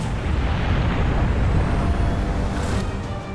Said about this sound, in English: Volcano Fuego erupts every 20 minutes